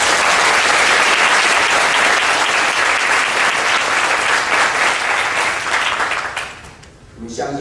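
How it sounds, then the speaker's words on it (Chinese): Church congregation applauding during a Thanksgiving worship service, a dense, loud, sustained wash of clapping that fades out near the end, with a voice beginning to speak as it dies down. "我们用掌声将一切荣耀归给神"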